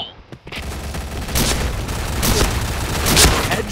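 A grenade blast in the Point Blank shooter game sets off a loud, sustained burst of broadband rumble and crackle that runs for several seconds after a brief quiet start, with a voice heard briefly.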